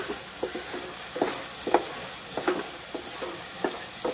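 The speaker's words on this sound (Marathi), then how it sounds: "तर 1 ते 2 चमचे मी इथे तूप घातलंय. चांगलं परतून घ्यायचं." Grated carrots sautéed in one to two spoons of ghee for gajar halwa, with soft scraping stirs and light clinks of a spoon against the pan repeating every second or so over a faint, steady sizzle.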